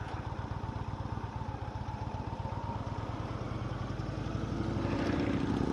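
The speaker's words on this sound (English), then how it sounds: "That's a nice Sportster." Harley-Davidson Sportster V-twin engine passing at close range with a loud, throbbing, uneven rumble that swells in volume toward the end.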